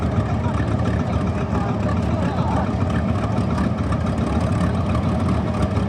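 A vintage Nutfield DM4 tractor, around 42 years old, runs steadily in a rally parade, its engine chugging in a continuous mid-range drone while someone talks over it.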